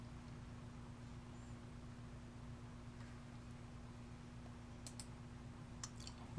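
A computer mouse gives a few quiet, crisp clicks near the end, two close together and then one more, over a steady electrical hum with no talking.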